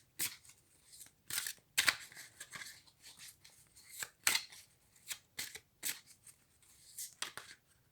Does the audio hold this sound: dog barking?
no